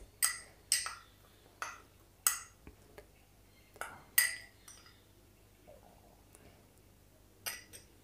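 A spoon stirs multani mitti in a bowl, making a series of sharp, light clinks against the bowl that come in irregular bursts, some louder and some fainter, in an otherwise quiet room.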